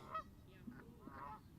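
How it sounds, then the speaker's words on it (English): Geese that have landed on a baseball diamond beside a softball game honk faintly in the distance, a few soft scattered calls over a quiet outdoor background. "The noise you hear in the background are the geese that have landed over on one of the baseball diamonds"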